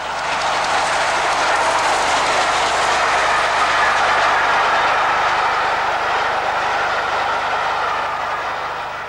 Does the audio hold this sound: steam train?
yes